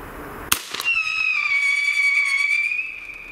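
A Silver Blizzards pyro cartridge fires from an Umarex Proton blank pistol with a sharp crack, followed by a loud, sustained whistling shriek lasting about two seconds that slowly drifts in pitch before cutting off.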